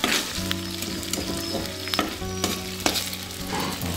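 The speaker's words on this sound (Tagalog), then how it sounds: "para igisa po yung bawang" Garlic sautéing in a pan beside meat for an Ilocano squash dish, a steady loud sizzle with scattered stirring scrapes throughout, no talking.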